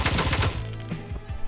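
Shotgun gunfire in the video game Door Kickers: Action Squad, a rapid burst of loud shots followed by a couple of spaced, heavier blasts with ringing decay.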